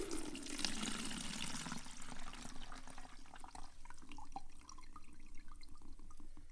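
Homemade natural cleaner that sat in a jar for about ten days is tipped out and drained off, a continuous pouring, splashing rush that thins into trickles and drips, with no talking.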